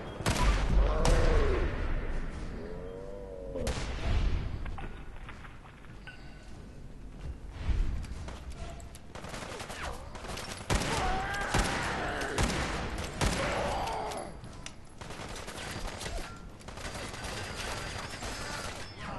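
Gunfire in Fallout 4's Far Harbor as an enemy shoots at a pillar: repeated bursts of shots and impacts in dense, busy combat noise that stays loud throughout.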